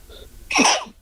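One sharp, close sneeze bursts out after a brief breathy intake.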